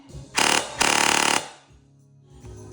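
A CYMA Platinum DSG airsoft gun fires two close, loud full-auto bursts of rapid mechanical cycling, the second one longer, then a quieter mechanical whir trails off afterward.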